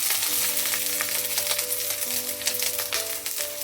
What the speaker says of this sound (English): Slow இப்படி stir பண்ணுங்க. And let the onion turn golden brown.